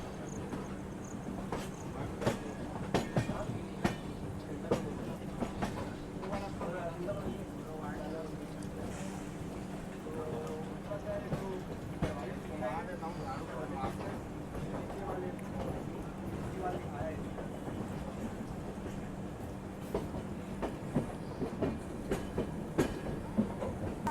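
A passenger train rolls slowly into Itarsi Junction station toward platform 1, steady rumbling with repeated clacking over rail joints and metallic knocks, heard from onboard under a continuous low drone.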